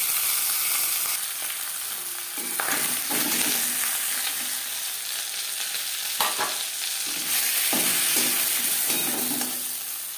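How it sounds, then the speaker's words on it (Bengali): Katla fish head frying in hot oil in a pan, a steady loud sizzle running throughout with a few scraping stirs and turns, no voices. "মাছের মাথা একটা সাইড ভাজা হয়ে গেলে অপর সাইডটা উল্টে দেব।"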